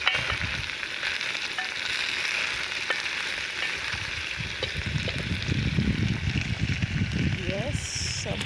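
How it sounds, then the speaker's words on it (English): Boiled beef and onions wet-frying in a pan give a steady bubbling sizzle throughout, with a voice talking over it. "I boiled the beef, and now the beef is ready to be fried. I just do a wet fry."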